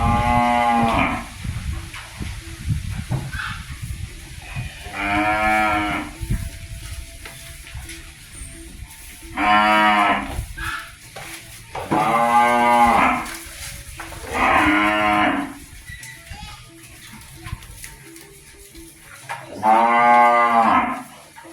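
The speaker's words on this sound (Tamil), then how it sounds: "இந்த இடத்துல பாருங்க கண்டு குட்டியெல்லாம் நிறைய நிற்கிது" Cattle on a farm moo in long, loud calls, roughly every few seconds, with short quiet gaps between bellows and faint background noise.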